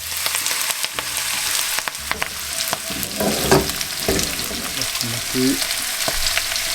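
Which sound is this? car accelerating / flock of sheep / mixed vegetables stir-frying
mixed vegetables stir-frying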